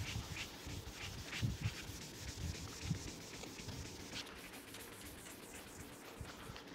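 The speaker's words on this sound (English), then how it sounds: "Don't stop sanding, you're almost there." Hand sanding of a plastic car headlight, a faint, steady rubbing and scratching with uneven strokes, close but quiet, with no speech.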